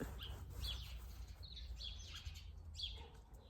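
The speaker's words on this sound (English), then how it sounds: "Oh, the birds today." Several birds chirp and tweet outdoors on a calm day, in short bright calls at a moderate distance above a low steady background rumble. No one speaks.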